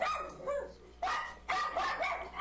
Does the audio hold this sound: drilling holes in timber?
no